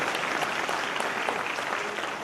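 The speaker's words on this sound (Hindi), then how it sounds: "उनके लिए भी ताली बजाइए जिन्होंने टीकाकरण का काम किया है" An audience claps in the newly built Ravindra auditorium at its inauguration ceremony, a dense, even wash of applause that carries on unbroken from start to finish.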